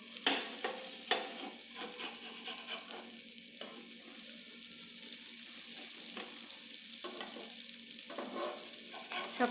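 Egg-coated eggplant slices fry in a pan on low flame, giving a steady sizzle broken by scraping and stirring of a spatula, close and moderately loud, with no talk.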